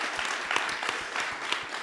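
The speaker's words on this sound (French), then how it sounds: "Vous pouvez vous applaudir." A festival crowd applauds, a dense, even patter of many hands clapping with a few sharper claps standing out, moderately loud and brief.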